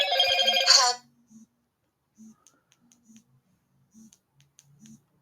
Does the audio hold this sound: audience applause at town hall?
no